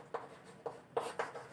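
Chalk or pen strokes writing on a board or paper during a Class 10 maths lesson: four short scratchy strokes in a quiet room, each starting with a sharp tap, no talking.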